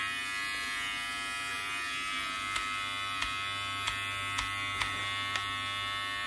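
A Remington B3 electric hair trimmer runs with a steady, fairly loud buzzing hum, broken by a handful of sharp clicks at regular intervals near the end.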